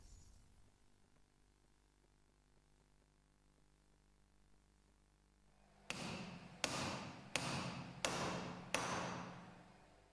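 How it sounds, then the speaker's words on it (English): A hammer strikes a bearing ring to drive it into the motor housing of a Kranzle power washer, quiet at first, then five sharp, evenly spaced metallic blows close by in a steady rhythm. "The bearing ring is inserted and pressed in by careful, evenly beating with a hammer"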